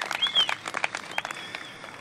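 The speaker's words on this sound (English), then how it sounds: "Everybody give Ms. Bradford a round of applause" A small audience at a graduation ceremony claps in sparse, uneven bursts that thin out as they go, with a faint whistle-like tone heard over the clapping.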